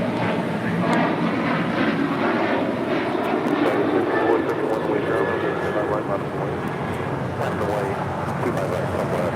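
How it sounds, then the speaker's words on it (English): Delta Airlines Boeing 737-800 taking off at LAX, bound for Puerto Vallarta: a steady, loud jet engine roar holding throughout, with a faint rising whine and voices talking over it. "1857 taking off to Puerto Vallarta on a 737-800"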